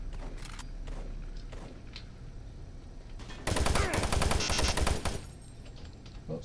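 Rapid automatic gunfire in the Doom 3 video game, a dense sustained burst of shots loud over a constant rumbling backdrop, preceded by a few scattered single shots and thuds.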